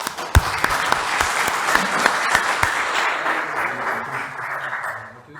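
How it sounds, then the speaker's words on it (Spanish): Loud audience applause welcomes a speaker at a seminar on criminal procedure and public-official corruption, dense clapping that opens with a few sharp claps, holds steady, then fades near the end. "vamos a recibirlo con un fuerte aplauso"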